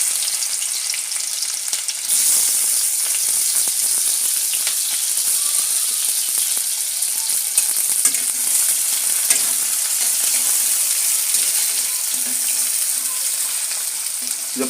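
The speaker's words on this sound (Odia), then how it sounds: "ଏବେ ଥାଉ, ଗରମ ହେଉଥିବ ପିଆଜ ଭାଜି ହେଇଯାଉ" Chopped onions frying in smoking-hot oil in a pan, a loud, steady sizzle and crackle that runs continuously with no talking.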